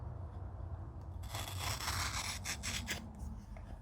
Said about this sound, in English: When you slice that line with a sharp scribe, it sounds like this.